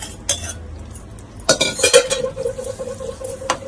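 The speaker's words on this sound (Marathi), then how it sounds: "आता अळू टाकून घेते" Colocasia leaves are tipped into a pan and stirred with a metal spoon while making a Maharashtrian alu leaf curry, bringing a few bright clinks and scrapes against the pan over a faint background hum.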